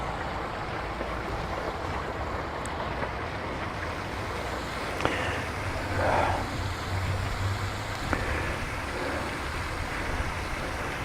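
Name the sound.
RV gray tank water flushing through sewer hose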